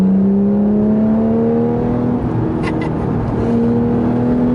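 A 2014 Porsche 911 GT3 with its rear-mounted engine accelerates from inside the cabin, a steady rising drone climbing smoothly in pitch through the gears, loud and continuous throughout.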